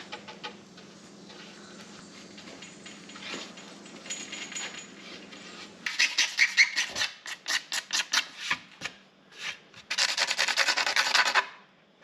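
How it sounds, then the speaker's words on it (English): Resin-coated 150-year-old barn wood for a 1931 Ford Model A flatbed being sanded by hand with 400 grit sandpaper, quiet scraping at first, then loud rapid rasping strokes in bursts, with no talking. "sanded everything down with a 400 grit, and has it pretty nice and smooth"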